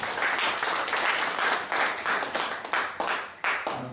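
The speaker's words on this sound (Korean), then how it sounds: "박수 받으십시오." A church audience at a Korean prayer breakfast claps for an honored guest, the head of the general assembly; steady clapping fades into sparser individual claps near the end.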